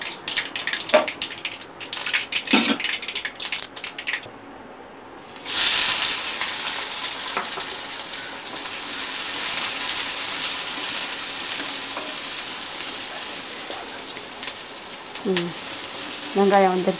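Onions fry in a pan for a Tamil drumstick poriyal: after a few early clatters and a brief quiet spell, a steady close sizzling hiss takes over and runs to the end, with a few light clinks near the finish.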